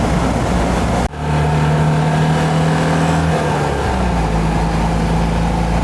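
A Citroën 2CV drives along mountain roads in Slovenia, its small engine droning steadily from inside the car, with a brief dip like a gear change and a loud constant hum of wind and road noise.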